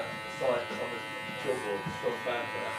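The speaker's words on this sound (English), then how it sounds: "Now I'm just going to freehand with the clipper." An electric hair clipper buzzes steadily up close as it cuts hair freehand during a slicked-back haircut, its hum rising and dipping with each pass.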